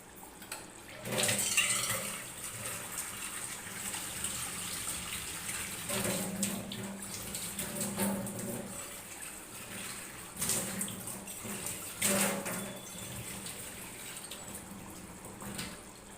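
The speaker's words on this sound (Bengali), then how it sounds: "আমি একটু জল অ্যাড করব" Water poured from a tap into a pot of rohu fish curry with potato and pointed gourd, a steady moderate rush of running water with a few louder splashes, heard close without talk.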